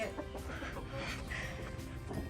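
Chickens cluck softly in a rural yard, with short scattered calls at low volume over a faint background and no talk.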